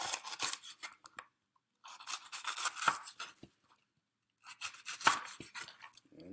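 A knife slices through a rinsed vegetable on a board in three short bursts of crisp, rasping cuts, close by, separated by brief silences.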